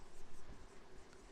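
Chalk or marker writing on a board during a mirror optics physics problem: a brief, soft, scratchy stroke sound, close and continuous, lasting just over a second with no talk over it.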